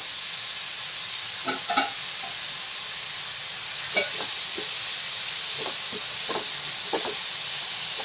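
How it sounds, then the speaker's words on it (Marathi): Carrots and tomatoes being sautéed in a pan for a mushroom soup give a steady sizzling hiss with occasional soft clinks and scrapes of stirring, fairly quiet and with no talk. "मस्तपैकी परतून घ्यायचं आहे।"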